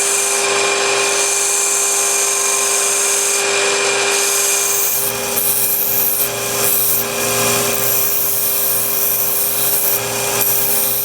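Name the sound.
filing and sanding a DIY wax carving tool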